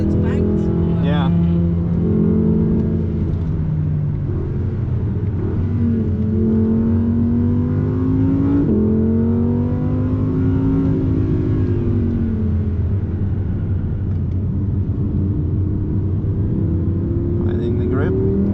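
An Audi R8 RWS sports car engine pulls hard around a wet race track, its loud close drone rising and falling through gear changes, with people talking over it inside the car.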